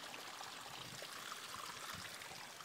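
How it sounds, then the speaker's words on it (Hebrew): A small spring-fed stream trickles and babbles over stones outdoors, a steady, soft, continuous water wash with no voices. "עוד פעם, המעיין הזה"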